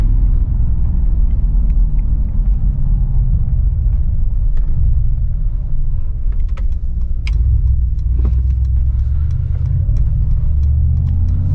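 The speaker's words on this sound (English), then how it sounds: "The engine sounds amazing." A Mercedes-AMG G63 SUV on the move gives a deep, steady engine rumble blended with wind noise. The sound is continuous and close for the whole stretch, with faint scattered clicks and no talk.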